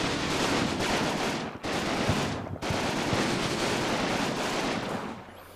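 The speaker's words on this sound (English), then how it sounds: "The machine guns keeping the occupants of house number 4 on a steady stream of fire." Dense, continuous machine gun fire from the Combat Mission war game, loud sustained bursts of rapid shots with overlapping distant gunfire, broken by two brief gaps before tailing off.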